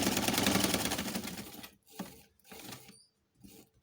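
A sewing machine stitching a cushion cover, whirring steadily for almost two seconds and then running in a few short stop-start bursts, close and moderately loud with no talk.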